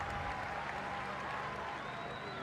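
Home crowd at Fremantle Oval clapping during a women's Australian rules football match, Fremantle against Brisbane, a steady broad wash of applause at a distance that holds evenly throughout with faint crowd noise beneath.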